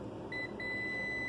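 A continuity tester gives a thin, steady electronic beep that starts briefly, drops out for a moment, then holds continuously while its probe ends touch, over a quiet background hum.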